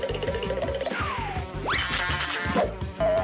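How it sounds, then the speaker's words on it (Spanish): A fly buzzes close by, its whine swooping up and down over a bouncy background melody. "¡Atrapa esa mosca!"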